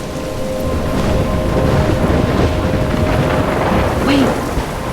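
Steady heavy rain with a low rolling rumble of thunder through a stormy scene near the sea, loud and continuous throughout.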